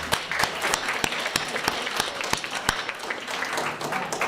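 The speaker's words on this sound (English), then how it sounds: "want to just start off with everyone just giving yourself a round of applause that you made it here today" Graduates at a pathway celebration ceremony applaud themselves, a loud crowd of clapping with distinct sharp claps standing out from a continuous roar, steady throughout the whole stretch.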